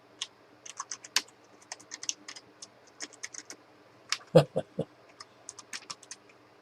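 Someone types on a computer keyboard while setting up a Raspberry Pi, producing close, irregular bursts of crisp keystrokes with short pauses and no talking.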